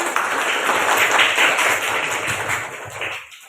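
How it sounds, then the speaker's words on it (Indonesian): A classroom of students claps together in brisk, steady applause lasting a few seconds before it fades out, with no voices over it. "Tepuk tangan buat kita semua."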